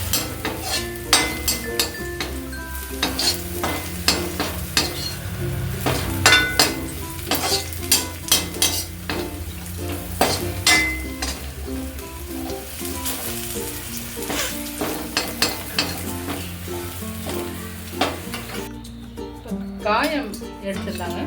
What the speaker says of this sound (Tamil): பூண்டு வந்து நல்லா கொஞ்சம் லைட் ப்ரௌன் ஆகும்.